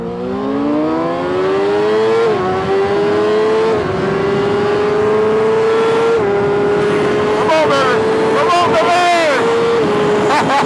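A stretched and lowered Kawasaki ZX-6R motorcycle accelerating hard in first gear, its loud engine wail climbing in pitch with brief dips, while people talk over it.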